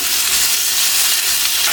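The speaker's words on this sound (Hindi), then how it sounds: "ये अब बोटियों को आपने तब तक फ्राई करना है जब तक ये वाइट ना हो जाए।" Chicken pieces frying with garlic in a pan give a loud, steady, close sizzle and hiss that continues without a break and with no voices over it.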